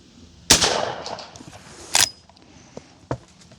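Two sharp, loud rifle shots from a Miroku Winchester 1892 lever-action firing 45 Colt +P ammunition, spaced about a second and a half apart, each with a short ringing tail, followed by fainter mechanical clicks and a small later report.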